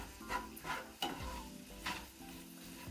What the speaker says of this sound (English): give that a bit of a stir and let that just cook for about a good half an hour until all the onions become caramelized